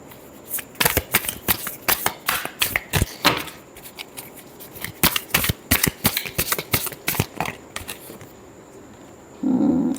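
A deck of tarot cards is shuffled in rapid riffling bursts, crisp flutters repeating in quick irregular clusters close to the listener, ending with a short rustle of handling.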